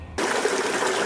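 Water pours through the waterfalls and overflowing urns of a large backyard pond, a constant splashing trickle and gush that starts abruptly after a brief quiet and then runs steadily and close with no talking.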